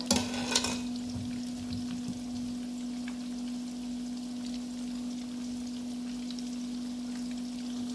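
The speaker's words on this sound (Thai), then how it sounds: "ทอดไฟอ่อนๆแบบนี้แหละเพื่อนๆ ข้างในก็จะหอมน่ากินนะ" Thai fish cakes (tod man) frying in oil over low heat give a steady, even crackling hiss that runs the whole time, with a brief clatter near the start and a constant hum underneath; nobody talks.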